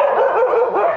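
Thai breed dogs at a dog care island in Phutthamonthon, Nakhon Pathom, bark and yelp nearby in a loud, continuous overlapping chorus with no pause.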